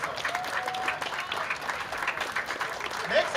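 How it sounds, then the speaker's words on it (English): Audience applause at the Celebrate Micronesia Festival, a moderate, uneven patter of clapping from a crowd with scattered voices and a few cheers mixed in. "a big round of applause for"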